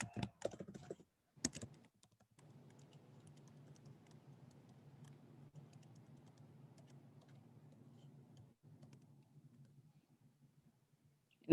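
Someone types a website address on a computer keyboard: a few sharp key clicks at the start, then a long stretch of faint low hum with occasional light taps, quiet and close.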